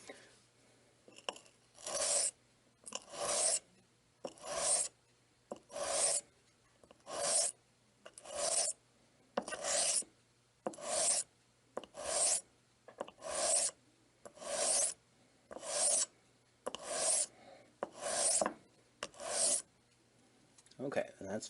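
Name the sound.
straight razor passes on sharpening stone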